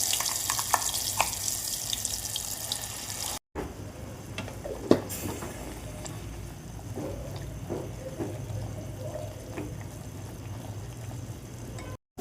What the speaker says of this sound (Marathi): आता हे वाटण याच्यात चांगलं परतून घ्यायचं.